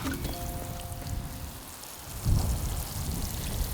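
Water from a hose splashing and pattering into a dug channel in a vegetable garden bed in Victoria, Australia, a steady close spattering with a heavier gush partway through, no speech.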